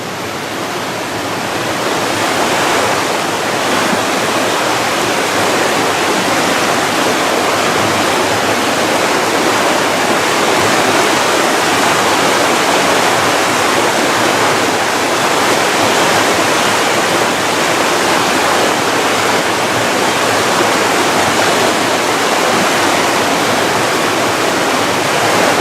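A river runs steadily through timber, a dense, continuous broadband rush of moving water that stays loud and even throughout with no voices.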